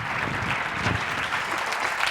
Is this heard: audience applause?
yes